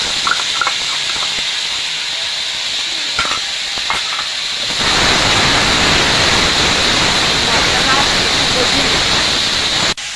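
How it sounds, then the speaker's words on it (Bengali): Ginger, cumin, coriander and dried chilli paste hitting hot oil, a vegetarian paneer dish in the making: a few clinks and a faint hiss, then a sudden loud, continuous sizzle that roars steadily until cut off. "তেলটা গরম হয়ে গেছে, আমি আদা, জিরে, আর ধনে, আর শুকনো লঙ্কা বাটা দিয়ে দেব।"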